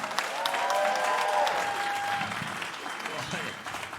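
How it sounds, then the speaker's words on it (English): A comedy club audience at The Comedy Store breaks into a round of applause that swells quickly and then thins out, with voices mixed in beneath the clapping. "So give him a round of applause if you'd like to see him again."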